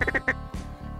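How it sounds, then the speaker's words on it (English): Several ducks quack in quick, nasal bursts close by during a duck hunt in Alberta, a rapid cluster of calls followed by another raspy quack. "There's ducks coming up in front."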